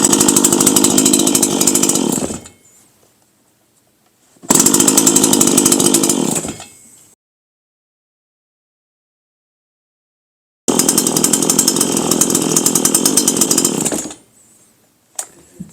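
A Dolmar PS-420 chainsaw revs loud and close in three bursts of two to three seconds each. Between the bursts it drops off to near silence.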